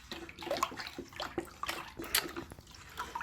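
Warm water being poured and sloshing into a container for mixing a cleaning solution, faint intermittent splashes and trickles with small drips, close by and without talk.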